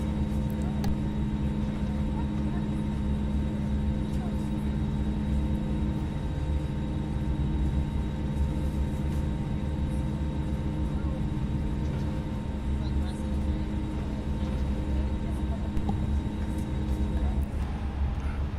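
In a flight simulator game, an airliner on a Kathmandu to Paro flight rolls onto the runway for takeoff, its engines humming steadily and loudly for the whole stretch while a voice talks over the droning tones.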